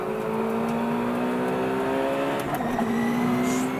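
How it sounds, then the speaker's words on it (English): Czinger 21C hybrid hypercar in high-downforce trim driving hard on a race track, a loud, steady engine drone with a rising harmonic tone through the run and a brief shift-like change near the end, no voices. "You literally cannot go full throttle for more than about 2 seconds anywhere on this track in the 21C."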